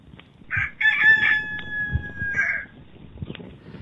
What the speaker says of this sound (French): un cri retentit dans la lueur du matin. Le chant d'un coq.